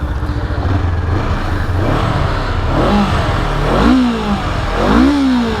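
Honda CL500 motorcycle with its stock exhaust revving up close: a loud, continuous engine drone with several rising and falling throttle blips toward the end, no talking over it.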